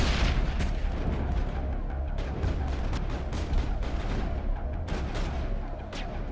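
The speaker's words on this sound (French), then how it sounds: "C'est des grenades incapacitantes, ça?" Stun grenades going off in a film's combat scene, a dense, continuous barrage of sharp bangs and booms with crackling bursts over a rumbling low end, loud and close with no pause throughout.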